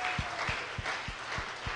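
A church congregation applauds during a service, a steady wash of clapping with a regular low thump beating about three times per second, like rhythmic clapping or stamping in time.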